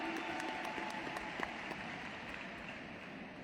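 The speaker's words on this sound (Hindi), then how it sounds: "एक बार जोरदार वाली तालियां, जोरदार तालियां।" Distant applause from a crowd in Ekana Stadium, Lucknow, a faint, steady wash of clapping throughout, with a few sharper claps standing out.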